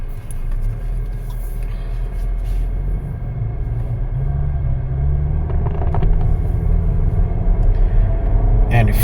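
A 2018 Volvo XC60 engine under full throttle on a country road, a loud, steady low rumble that builds gradually along with road and cabin noise throughout.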